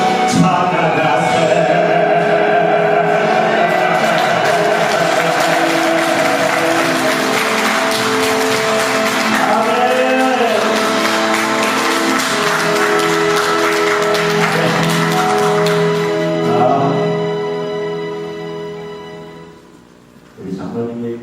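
A church congregation applauds, a steady wash of clapping mixed with voices and music that holds for most of the stretch, then fades out near the end.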